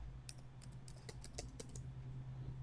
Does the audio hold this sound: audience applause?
no